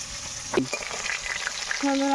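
Oil sizzles and crackles as small fish fry in a pan, with a brief clatter partway through and a faint tonal hum near the end.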